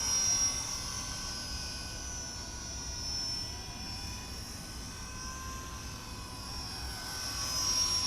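Blade 200SRX collective-pitch RC helicopter in flight, a steady whining rotor and motor drone at moderate distance that holds fairly even throughout, swelling slightly toward the end.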